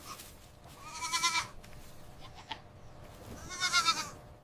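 White mother goat with her kids, two clear bleats, one near the start and one near the end, with quieter rustling between and no talk.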